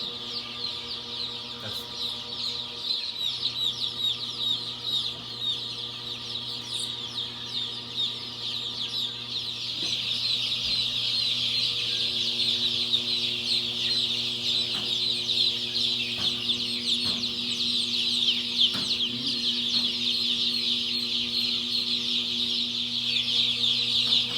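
Partridge Rock chicks peep continuously in a warm brooder with a fan running, a dense chorus of high chirps over a steady low hum that grows slightly louder partway through.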